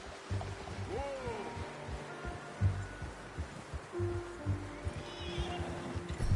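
Horse whinnying and hooves in Red Dead Redemption 2, a rising whinny early on with soft thudding steps and ambient game sounds throughout.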